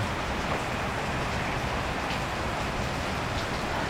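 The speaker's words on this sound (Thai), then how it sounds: "ฝนตกแล้ว แล้วก็ เปียกเลยนะครับดู" Steady rain pours during a motorbike food delivery ride in Thailand, a constant hissing wash of falling water with no break or voices.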